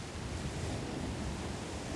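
Ocean surf on the beach at Montauk makes a steady, broad roar of waves and wind, even and unbroken, with no voices.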